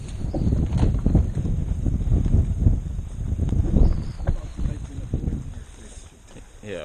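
Wind blusters steadily across an open lake in boreal forest, low rumbling gusts buffeting the microphone throughout, with no voices.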